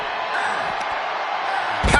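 A power slam impact from the WWE 2K25 wrestling game lands as a loud burst near the end, over a constant roar of arena crowd noise.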